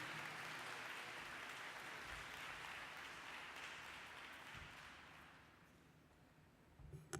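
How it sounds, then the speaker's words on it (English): Audience applause for award winners at a health care keynote conference in Boston, broad steady clapping that fades gradually over several seconds, heard alone. "let's have a really big round of applause for this year's winners"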